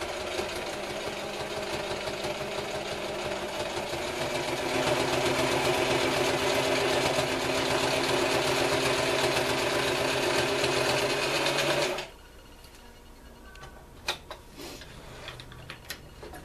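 A sewing machine runs a long straight stitch across heavy canvas for a haversack, a loud, fast, steady mechanical chatter for about twelve seconds, then stops, leaving a few faint clicks and handling sounds.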